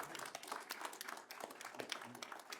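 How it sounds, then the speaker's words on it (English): A city council meeting audience gives a round of applause: dense, quiet clapping from many hands, fairly distant and steady throughout. "Let's give them a round of applause."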